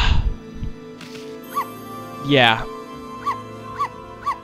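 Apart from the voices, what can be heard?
high-pitched dog bark in Okami video game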